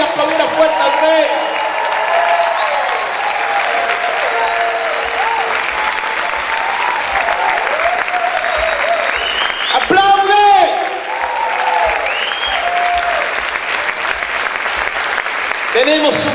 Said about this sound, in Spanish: Si es por usted gritar y aplaudir a fuerte al Rey.